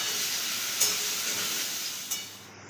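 Prawns fry with salt in a pan, a steady close hiss of sizzling with a couple of soft clinks of stirring, no voices.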